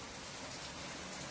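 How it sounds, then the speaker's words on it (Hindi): Heavy downpour of rain, a dense, even hiss of falling water spread across the whole sound, steady and unbroken, with no voices. "क्योंकि इतनी तेज सी बारिश स्टार्ट हो गई"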